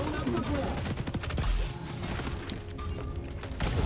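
Rapid bursts of gunfire crackle loudly and continuously in the online shooter xDefiant, with sharp overlapping shots and blasts close up.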